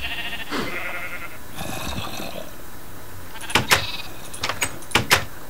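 Sheep bleats from a pen in Minecraft, a handful of short, sharp cries clustered near the end after quieter game sounds, fairly close and with no talking over them.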